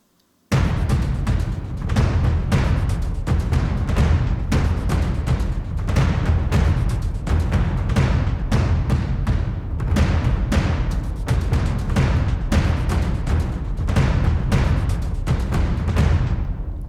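A Damage 2 percussion loop plays together with heavy low percussion in a loud, dense, driving rhythm of booming hits and rapid sharp strikes. It starts abruptly and runs steadily to the end, with no voices.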